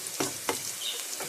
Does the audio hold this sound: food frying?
yes